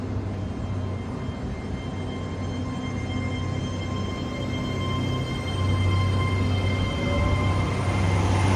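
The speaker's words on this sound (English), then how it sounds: "Departing now is the 11:36 Great Western Railway service from Taunton to London Paddington." A Great Western Railway train pulls out of Taunton station bound for London Paddington, a steady low rumble and drone building slightly louder as it departs, with no voices.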